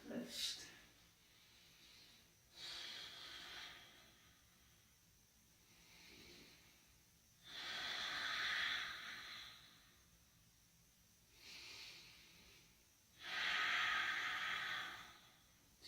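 Slow, deep yoga breaths during a back-strengthening session: long soft exhales alternate with quieter inhales, about five or six breathy swells, close and unhurried with no talking.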